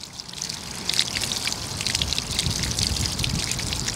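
Water gushes steadily from a hose into buckets during a flow test of a dual pressure washer setup, a continuous close splashing trickle with no talk.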